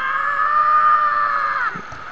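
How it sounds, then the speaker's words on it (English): Link from the Ocarina of Time Master Quest game letting out a loud, sustained high-pitched scream for about a second and a half, then cutting off into quieter game noise. "So when Link is done screaming,"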